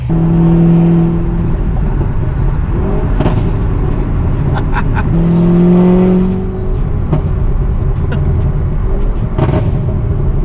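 A loud car engine revs and roars while driving, with sustained engine drone and two strong surges, plus brief tire noise; a truck or SUV such as a Chevy Blazer rock crawler build.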